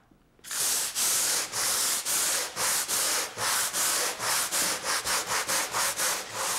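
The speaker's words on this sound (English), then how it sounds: "Now that our paint is dried, we can go ahead and start sanding." Dried paint being hand sanded to give it a distressed finish, a quick series of rough rubbing strokes that speed up toward the end, close and loud with no talk.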